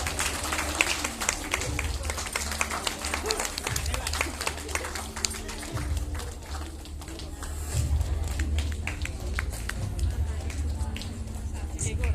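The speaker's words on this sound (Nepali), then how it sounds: "ताली बजाउनुहोस् त सबैजना हेर्नुहोस् न।" A crowd applauds at a Nepali gathering retelling the story of Jesus, steady dense clapping filling the whole stretch alongside a low rumble, with no voices standing out.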